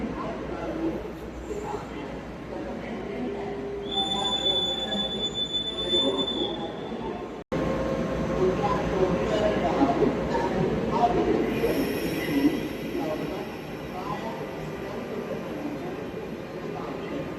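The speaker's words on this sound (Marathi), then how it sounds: "इथल्या ट्रेनची स्पीड ताशी 150 ते 200च्या दरम्यान असते" A fast train on a railway track in Germany rumbling past with metallic wheel squeal and rolling clatter, loud and sustained, with a voice talking over it.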